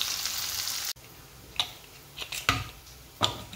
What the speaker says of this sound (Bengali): পেঁয়াজটাকে একদম লাল লাল করে বেরেস্তার মতন করে আমি ভেজে নেব